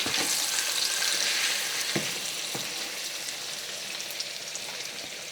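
Four eggs frying in a very slippery nonstick pan, a steady close sizzle with scattered pops and crackles running throughout.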